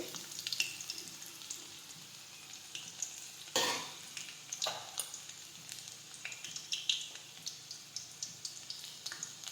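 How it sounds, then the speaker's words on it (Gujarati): Garlic frying in oil until it turns red makes a soft, steady sizzle broken by repeated light scraping and stirring taps from a spoon, with one louder clatter partway through. "હવે લસણ છે તેને આવું લાલ થવા દેવાનું છે."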